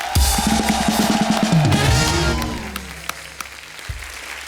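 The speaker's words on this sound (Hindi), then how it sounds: "ओ अरुणा जी के लिए जोरदार तालियां।" Studio audience applause on a comedy talk show as a guest is welcomed, a loud burst of clapping mixed with a musical sting that fades away after a couple of seconds.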